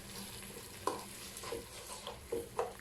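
Chopped onions fry in a pan with whole garam masala spices, a steady soft sizzle broken by several brief scraping stirs of a spoon, close and moderately quiet with no talking.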